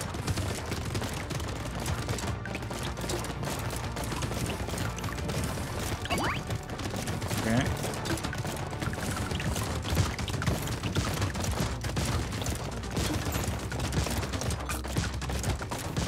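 Turrets firing nonstop in the Brotato video game, a dense rapid barrage of shots and small explosions that keeps a steady loud wash through the whole stretch, with no talk over it.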